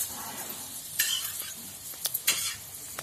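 Spinach vadi shallow-fry in oil on a flat griddle pan, giving a soft steady sizzle with a few close scraping and stirring clicks from a utensil, no talk.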